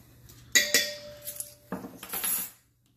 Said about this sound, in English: Now we're going to get our whisk.